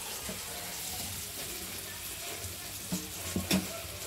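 Tomato and onion fry in a pan with a soft, steady sizzle, faint and continuous, with a few brief scraping knocks near the end.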